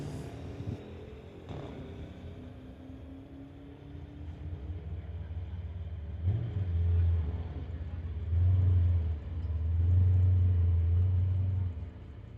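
A 2005 Dodge Charger at a street-legal drag racing event, its engine a deep low rumble that swells and revs in surges toward the end, heard alone without talk.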